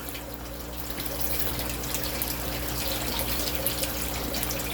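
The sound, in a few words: aquaponics fish splashing as food hits water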